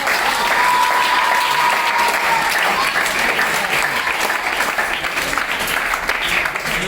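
Audience clapping at an education event, a loud, dense wash of applause that holds steady from start to finish, with a faint voice briefly audible underneath.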